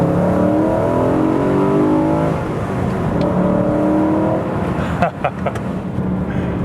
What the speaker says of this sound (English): this car sounds great now